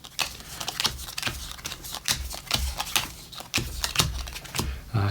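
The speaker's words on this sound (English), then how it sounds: "I'm just going to shuffle these cards quickly." Playing cards for a solo campaign of the Dragon Eclipse board game are shuffled by hand, a quick run of soft riffling clicks and flicks close up, repeated in short bursts over several seconds.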